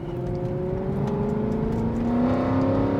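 A catless Mercedes CLK63 Black Series V8 revs hard and close, its pitch climbing steadily from about 3,500 RPM with a rough, loud exhaust note and no talking.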